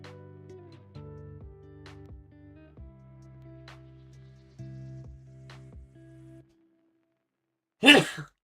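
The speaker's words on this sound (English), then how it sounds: "Didn't mean to sneeze." A single sharp sneeze bursts out loud and close after a quiet stretch of faint, steady tonal background sound.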